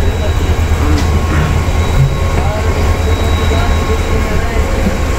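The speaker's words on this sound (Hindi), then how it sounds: "और उसी डायमंड क्रॉसिंग से गुजर कर आकर ये खड़ा है HGMU 38209।" Diesel multiple unit HGMU 38209 rolls over a diamond crossing, giving a steady loud rumble with faint wheel clatter and a few squeaks throughout.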